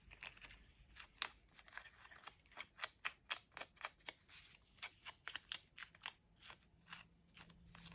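Scissors snip through paper in a fussy-cut papercraft session for a Santa-themed card, a run of close, crisp cuts in an uneven rhythm with no talking.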